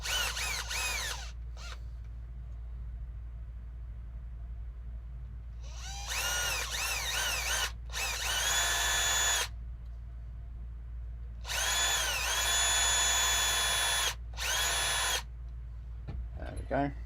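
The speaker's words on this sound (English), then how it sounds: "I'll have to drill a tiny hole drill a tiny pilot hole" Small power drill boring a tiny pilot hole in a 3D-printed wheel for an RC comp crawler: about six high-pitched whirring bursts of one to three seconds each, close and loud, separated by quiet pauses.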